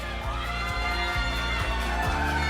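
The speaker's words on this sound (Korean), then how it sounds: "큰 박수 부탁드립니다." Crowd at a Democratic Party convention applauding and cheering loudly and continuously, with shouts over steady clapping and rhythmic low thumps from a sound system.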